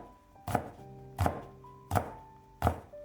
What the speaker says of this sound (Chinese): 几个小米辣切成小圆圈。